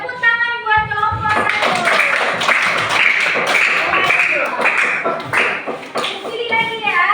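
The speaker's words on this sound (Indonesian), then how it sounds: "tepuk tangan buat kelompok" Students in a junior high school classroom clap for a group, a loud, close burst of many hands that runs nearly the whole time, with children's voices mixed in.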